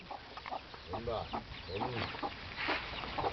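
Chickens cluck and murmur nearby in short, repeated calls, fairly faint, with some background noise around them.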